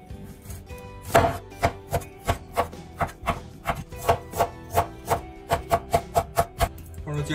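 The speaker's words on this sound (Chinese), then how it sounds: "萝卜切成块" Radish being chopped into chunks with a knife on a board, a rapid even run of sharp thuds, about two per second, close and loud with no talking.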